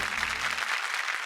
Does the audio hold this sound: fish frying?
no